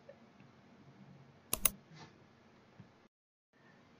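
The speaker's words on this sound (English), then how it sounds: "you select one process and click here" A computer mouse gives a sharp, close double click in an otherwise quiet room, with faint light clicking before and after and a brief silence near the end.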